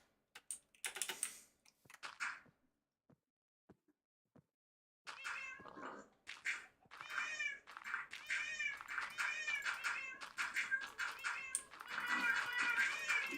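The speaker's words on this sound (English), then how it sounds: "Kitty sounds. They're so cute." Cat meows from a video game mod, several short mewing calls in quick succession, the first faint and isolated, then a fairly loud, steady string of meows alongside keyboard typing.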